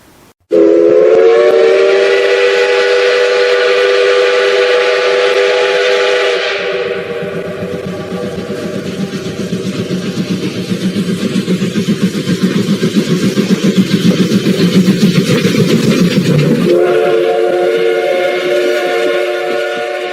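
Train departing with a loud steam whistle blowing for several seconds, then chugging rail rumble and hiss, followed by the whistle sounding again near the end, close and prominent with no talking.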